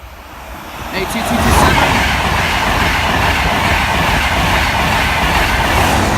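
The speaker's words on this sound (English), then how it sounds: "here's the Leeds train" A passenger train roars past close by at a level crossing, a loud, continuous rumble and rush of wheels on rails building up and sustained.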